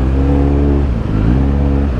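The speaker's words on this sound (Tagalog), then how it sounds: "Ganda, ganda ng exhaust" A 2022 Kawasaki Z900 motorcycle with an Orion aftermarket exhaust revs close by, its engine note rising and falling in a steady, loud, continuous growl for about two seconds.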